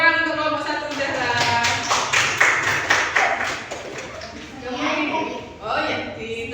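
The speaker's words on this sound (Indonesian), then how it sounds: "tepuk tangan untuk kelompok 1 Zahra" A class claps for a student group, with brief, uneven hand claps and taps mixed under ongoing children's and teacher's talk in a classroom.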